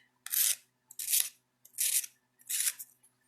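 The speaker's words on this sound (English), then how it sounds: "This is a 1-inch Zona sanding stick" A 1-inch Zona sanding stick rasps across metal in four even strokes, each a bright, gritty scrape of about half a second separated by short pauses, close and clear with no talk.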